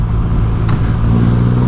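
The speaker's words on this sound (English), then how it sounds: "Oh, and that engine is so... it's just like a truck" The engine of a 2021 Triumph Rocket 3 R motorcycle runs with a deep, steady, truck-like drone, close and continuous for a short moment.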